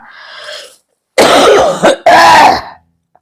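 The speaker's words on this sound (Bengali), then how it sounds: "খুব কাশি খুব কাশি" A person coughs several times in harsh, throaty bursts, close up, with a soft breathy sound before them and brief pauses between.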